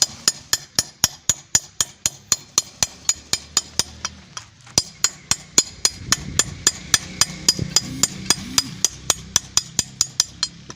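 A hammer strikes a chisel while a stone grave tablet is carved by hand, sounding as sharp, evenly spaced metallic taps at a quick steady rhythm, close and loud, with faint background sounds.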